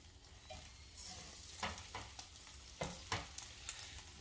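An egg frying in an omelet pan, with a soft continuous sizzle close by and light scraping strokes repeating over it, quiet with no talk.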